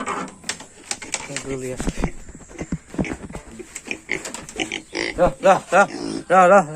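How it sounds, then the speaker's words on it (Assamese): A pig on a farm grunts and squeals in short, loud bursts near the end, close by, mixed with a person talking and some clattering. "গাহৰি গোটেই খান্দি পেলাই ৰচোন।"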